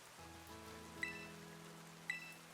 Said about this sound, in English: The constant rain starting is annoying.